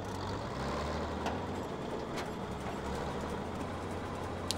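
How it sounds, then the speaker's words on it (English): A combine harvester in Farming Simulator 17 rumbles steadily while backing up, a continuous low engine drone with faint intermittent clicks, close and moderately loud, with no voices. "Let's actually back her up a bit and fire her up."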